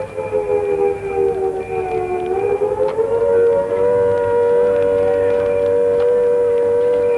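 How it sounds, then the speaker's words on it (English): A loud air raid siren wails continuously, its pitch sliding upward and then holding a long, steady howl. "When you hear these warning sirens, take cover at once."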